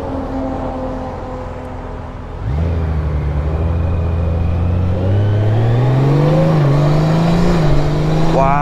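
A 2021 Honda Goldwing motorcycle pulls away and accelerates, its engine note rising smoothly and stepping down as it shifts gears before climbing again, loud and steady.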